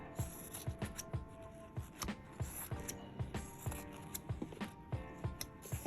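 Scissors snip through fabric for button earrings in a quick run of close, crisp cuts in an otherwise quiet room.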